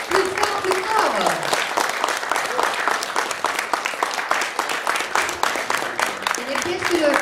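An audience applauds performers after a show, a dense, steady wash of many hands clapping close by for several seconds, with a few voices calling out over it.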